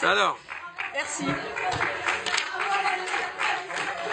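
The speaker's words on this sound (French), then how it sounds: "Merci de m'applaudir, hein, la liste citoyenne" Council members at a French municipal council meeting give a short burst of applause, mixed with a murmuring room and brief spoken thanks over it.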